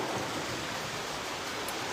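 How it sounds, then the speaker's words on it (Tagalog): Heavy rain pours down steadily outdoors, a dense, even hiss of falling water that stays loud and unbroken throughout with no voices. "umuulan talaga. Grabe. Ang lakas ng ulan dito."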